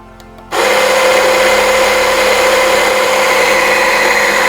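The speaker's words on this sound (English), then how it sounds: "Measure out how much coffee, put in your grinder. Then we'll start the grinder off." An electric coffee grinder grinds a single dose of beans for pour-over, starting abruptly after a brief quiet moment and then whirring loud and steady at close range with no voices.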